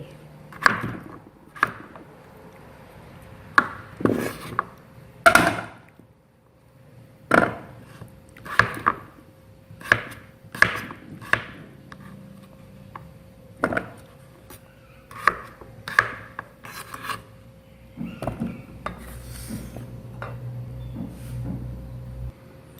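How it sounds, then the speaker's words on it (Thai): A knife chops papaya repeatedly on a cutting board, sharp irregular thuds in bursts with short pauses between. "หั่นมะละกอ"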